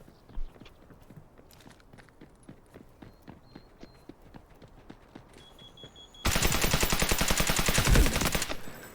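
Gunfire in the shooter Delta Force: rapid rhythmic shots and footsteps at moderate level, then a loud, dense burst of automatic fire close by over the last few seconds.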